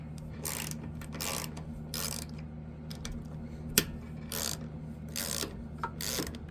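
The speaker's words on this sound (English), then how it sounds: "Now you can go right ahead and loosen up these two 10mm bolts." Ratchet loosening two 10mm bolts on the air box of a small engine carburetor, several bursts of rapid clicking strokes alternating with pauses, with one sharp knock partway through, close and fairly quiet over a steady low hum.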